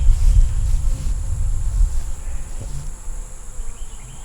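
Honey bees buzz at an open beehive during a bottom-board cleaning, a dense close drone with a faint high whine above it, fading somewhat toward the end.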